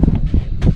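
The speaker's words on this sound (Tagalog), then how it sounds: "Ang lakas ng hangin palagi." Strong wind on a fish pen out on the water, buffeting the microphone in loud, uneven low gusts with no voices.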